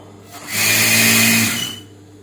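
Sewing machine stitching a fabric sleeve, one loud steady motor whir rising and fading over about a second, close up and alone.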